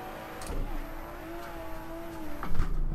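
Car engine in the Assetto Corsa racing game revving and accelerating uphill in a drifting session, a steady rising engine tone with a brief dip and a louder surge near the end.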